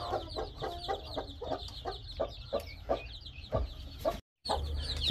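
Chickens cluck repeatedly in a quick, irregular series of close, distinct clucks, with a brief silent gap just before the end.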